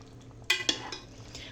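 Fresh green beans stirred in a cooking pot, a few quick close scrapes and clinks of a spoon against the pot over a low steady background hum.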